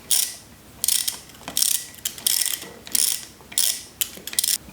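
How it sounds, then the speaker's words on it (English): Rapid ratchet clicking in repeated bursts with short pauses as bolts are turned in by hand on an Audi A8 cylinder head during air suspension work, close and crisp. "And we'll turn these bolts in."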